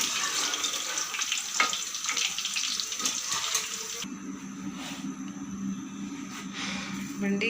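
Okra (bhindi) sizzling in hot oil in a pan, a steady bright hiss and crackle that continues throughout and eases partway through as lower handling noise joins in.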